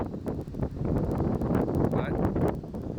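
Steady, loud wind in a hay field buffeting the microphone, a continuous low rumble and gusty roar throughout with no clear voices.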